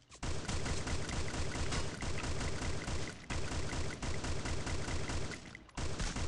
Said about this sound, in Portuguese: tô tomando um tiro